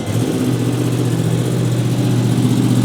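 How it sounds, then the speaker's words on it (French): A Yamaha R1 motorcycle engine catches and settles into a loud, steady idle close by, a firm droning rumble that holds evenly after the start. "ça fait 1000 ans que j'ai pas démarré cette moto"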